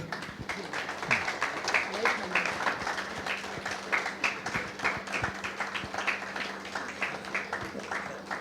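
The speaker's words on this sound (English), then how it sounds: "Please cheer." An audience at a community meeting in a Mumbai hall claps in a loose, uneven rhythm for several seconds, moderately close, with voices talking over the applause.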